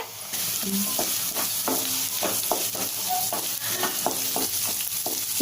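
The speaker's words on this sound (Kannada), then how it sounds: "ಕ್ಯಾಪ್ಸಿಕಮ್ನ ಒಂದು ನಿಮಿಷ ಫ್ರೈ ಮಾಡಿಕೊಂಡ್ರೆ ಸಾಕಾಗುತ್ತೆ" Chopped onion and capsicum fry in a pan: a continuous sizzle runs under repeated clinks and scrapes of a spoon stirring at an uneven pace. There is no talk.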